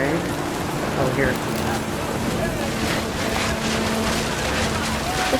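Rain pouring down in the video game What Remains of Edith Finch, a steady, fairly quiet hiss over a low rumble, continuous and even from start to finish.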